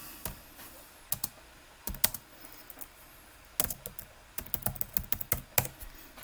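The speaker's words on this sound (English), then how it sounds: "you can also just start typing" Keys clatter on a computer keyboard while someone types into spreadsheet cells, with quick bursts of close, crisp taps and short pauses between them, no voices.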